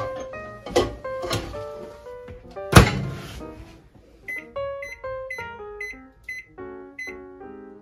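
A cornbread tin goes into an oven set to 200 Celsius, and the door shuts with a single solid thunk midway through, heard under prominent background music.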